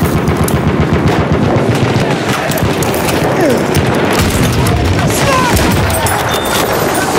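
Bursts of machine gun fire in a Battlefield video game rattle loudly and continuously, mixed with explosions and chaotic combat noise while players talk.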